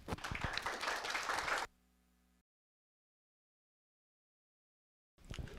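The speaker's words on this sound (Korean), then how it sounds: "큰 환영의 박수 부탁을 드립니다." Welcoming applause from an audience at a Korean humanities forum as a professor is brought to the podium, a burst of dense clapping that stops abruptly, followed by near silence before the sound resumes at the end.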